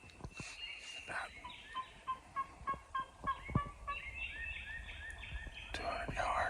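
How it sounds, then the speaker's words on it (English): Wild turkey gobbles in the distance on an Illinois hunt, a series of repeated rattling bursts, faint and far off, with quiet whispering voices nearby. "We got turkey out here gobbling."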